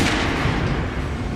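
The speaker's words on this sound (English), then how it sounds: "Now shoot the armored dummy." Gunfire at an armored target dummy in Metro Last Light Redux, a dense continuous burst of loud shots with booming low impacts and no pauses throughout.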